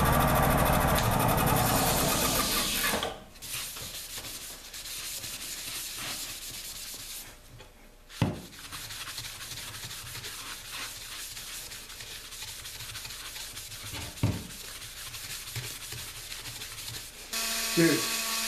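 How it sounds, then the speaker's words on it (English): An electric drill bores a couple of holes in a stretch-wrap bongo drum to take copper fittings, a steady buzzing whir with brief pauses and a few sharp knocks, close and fairly loud. "I'm drilling a couple of holes for the copper to go in"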